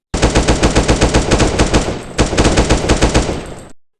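Automatic gunfire comes in two long, rapid bursts of loud, evenly spaced shots with a brief gap between them. The shooting is close and dense, and then it cuts off abruptly.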